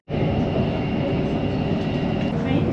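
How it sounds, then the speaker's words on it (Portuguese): A Bangkok metro subway train running, a loud steady rumble and roar of the rail car heard from inside, continuous from start to end. "Só vão escutar o barulho do metrô e a televisão."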